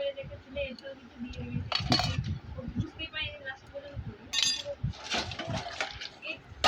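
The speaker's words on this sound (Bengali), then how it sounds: "ভালো থালাগুলো মেজে নিই" Plates being scrubbed and washed by hand: intermittent clinks and clattering of dishes with splashes of water, under someone talking nearby.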